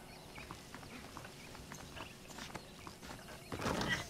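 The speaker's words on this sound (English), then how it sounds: "The horses are saddled up over here." Saddled horses in the video game Red Dead Redemption walk with soft, fairly faint clip-clopping hooves at a steady pace, growing louder and busier near the end.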